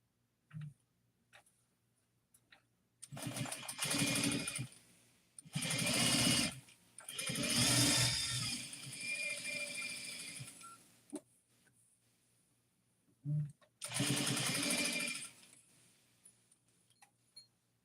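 A Suzuki sewing machine stitches a seam on a DIY jogger garment in several loud, rapid bursts, with quiet pauses and faint handling clicks between runs.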